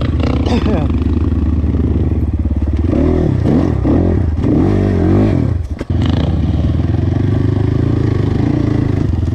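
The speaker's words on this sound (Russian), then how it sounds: "Движок везет для своих 300 кубиков" The engine of a ZUUM CR300NC 300cc enduro motorcycle runs loud and close, its pitch rising and falling as it revs, with clattering under the steady drone.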